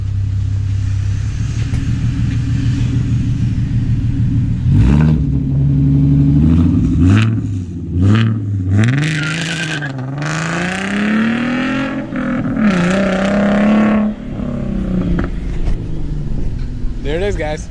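A V6 Mustang with a new aftermarket exhaust idles with a deep rumble, then revs sharply several times with rising and falling engine tones before pulling away, while people talk nearby.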